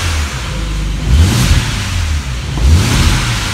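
A car engine held at full throttle, a steady loud roar with low rumble that swells in two surges, no talking.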